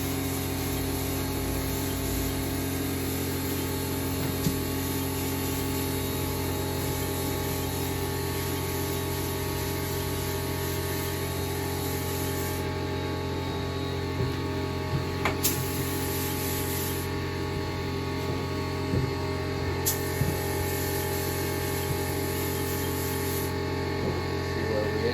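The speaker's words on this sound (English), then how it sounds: "Doing a light coat right now." A spray gun lays down a light coat of kandy paint on a drag minibike build, a steady, close hiss that runs almost unbroken with a few brief ticks and pauses in the spray.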